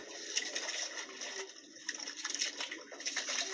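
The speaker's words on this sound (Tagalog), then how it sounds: "lakas ng Agos" Strong river current rushing steadily, a broad hissing wash of water with faint splashes, moderately distant and continuous, with no talk.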